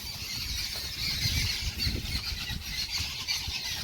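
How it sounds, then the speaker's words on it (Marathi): Kekade birds call in a shrill, steady chorus of squeals and squawks that carries on without a break, fairly loud and with no voices over it. "केकाडे पक्षी ओरडतायत"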